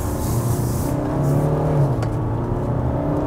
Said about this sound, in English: The engine does get a bit grumbly at higher RPMs